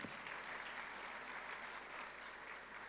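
Sustained audience applause fills a celebration hall, a dense steady wash of many hands clapping from start to finish with no voices standing out.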